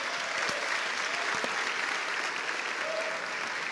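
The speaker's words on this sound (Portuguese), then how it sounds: "Dê um aplauso ao Senhor." A church congregation claps together in praise during an evening sermon, a dense, steady roar of applause filling the room without letting up for the whole stretch.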